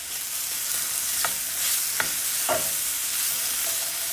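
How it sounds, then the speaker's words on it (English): Apple oatmeal sautés with butter in a cast iron skillet, a constant close hiss of frying with a few light scraping stirs spaced through it, no voices. "Just a matter of sauteing"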